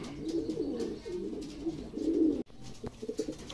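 Racing pigeons coo in low, repeated throaty phrases close by at their loft, fairly soft and continuous for a few seconds with a brief break near the end.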